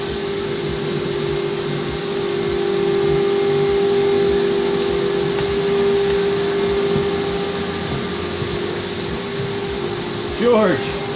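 A loud blower-type machine dries off a boat deck fitted with marine foam decking mat, a steady whining roar with a sustained hum and a short whistle-like sweep near the end, voices talking faintly underneath.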